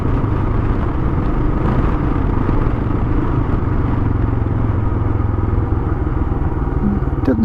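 A Kawasaki KLR 650 motorcycle engine runs steadily up close, a continuous low rumble with clattery mechanical texture throughout, heard while riding a bike suspected of a fault.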